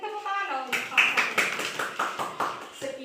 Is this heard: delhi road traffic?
no